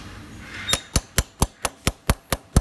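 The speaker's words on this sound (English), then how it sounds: "This is a little 100-gram chasing hammer" A small 100-gram chasing hammer strikes a chisel on a lost wax brass casting, nine sharp metallic taps in a quick, steady rhythm, close and crisp after a brief quiet lead-in.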